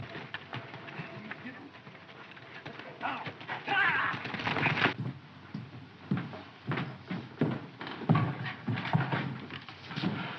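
Horse hooves clip-clop in an uneven, steady patter as riders leave, growing louder toward the end, with voices speaking in between.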